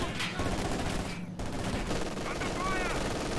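Machine gun fire and other gunfire in the video game Company of Heroes 2, dense rattling bursts and battle noise running continuously under game effects.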